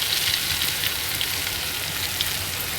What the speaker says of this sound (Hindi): तो हम ये सारा मसाला इसमें ऐड कर लेंगे